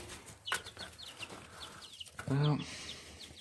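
Young chicks chirp and cluck in short, scattered calls at close range outdoors, with one louder, fuller fowl call near the end over a faint background.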